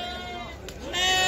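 Sheep bleat at a goat and sheep livestock market in Ajmer, a few dense calls rising over a busy crowd of overlapping voices and market chatter.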